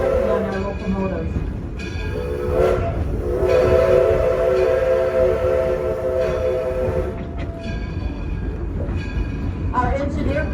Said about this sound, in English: Our engineer pulling our train today is Brad, and our fireman is Mark